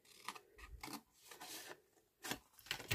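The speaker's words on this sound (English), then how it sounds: "So cut along that line there to where the flap comes in and do the same on the other side." Paper being cut along a marked line with scissors while making journal pockets, heard as several close, rasping snips and slides in short bursts with pauses between them.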